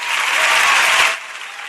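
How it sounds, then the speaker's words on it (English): A short burst of loud audience applause, dense close clapping that swells for about a second and then drops to a softer tail. "Those applause probably just blew everyone's eardrums out"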